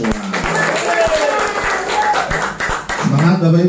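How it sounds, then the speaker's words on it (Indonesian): Audience claps at a public speaking workshop in Balikpapan, producing scattered, loud individual claps mixed with talk and cheering voices, and a voice rising near the end. "Lagi tepuk tangan lagi untuk kita semua."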